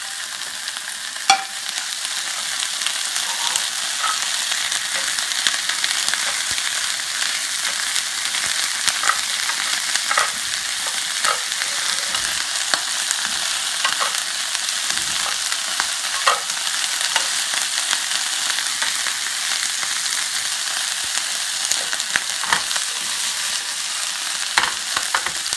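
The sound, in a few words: green apple, bell peppers frying in a pan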